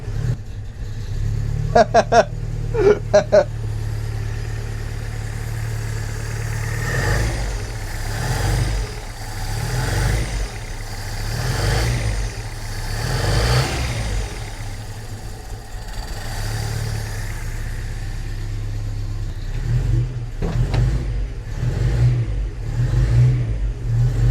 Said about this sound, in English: Here we are inside the Datsun. This is the first startup in probably